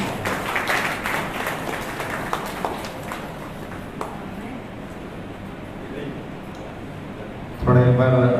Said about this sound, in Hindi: आप सभी मातृशक्तियों से आग्रह है कि ताली बजाकर आप लोगों का स्वागत करें।